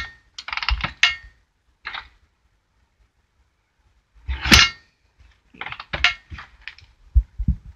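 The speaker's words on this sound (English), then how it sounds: "that clicking noise, that's pretty common on these bikes." Light mechanical clicking from a Honda CRF150R engine, from the decompression mechanism on the cam; small clusters of ticks with pauses between them, close and fairly quiet, no voices.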